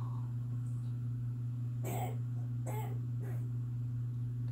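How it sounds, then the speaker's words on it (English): A sick baby coughs faintly in the background, three short dry coughs spaced about a second apart over a steady electrical hum. "Y'all can hear that coughing."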